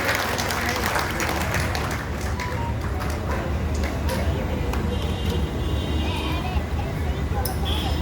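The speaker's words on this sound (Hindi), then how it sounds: "एक बार तालियां बजाकर हम आग्रह करते हैं" Audience applause fills a large hall during a Hindi poetry recitation event by Dr. Hari Om Panwar, a steady dense clapping that runs loud and continuous throughout.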